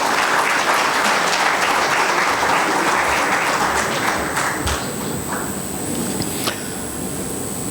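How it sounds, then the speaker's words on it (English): An audience at a formal economic session applauds to welcome a speaker, a dense, loud burst of clapping that gradually thins and fades toward the end. "Let's all welcome with a thunderous applause."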